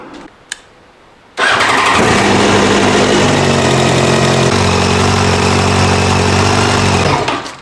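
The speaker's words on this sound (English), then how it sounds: "we might as well turn the bike on and make sure that it actually works" A 2006 Yamaha FZ1 motorcycle engine fires up after a brief quiet click, then settles into a loud, steady idle close by, its even rumble holding for several seconds with no talk.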